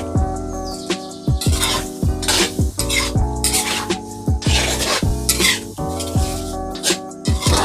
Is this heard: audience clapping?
no